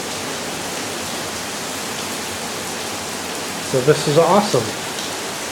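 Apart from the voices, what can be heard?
rain falling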